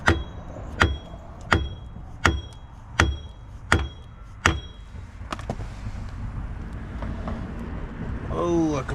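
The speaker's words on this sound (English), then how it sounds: "see if I can't beat this nut out a little bit" A hammer beats at a stuck nut on the passenger lower control arm of a 2013 Ford C-Max, with seven sharp metallic strikes at an even rhythm, followed by softer clatter and a low background hum.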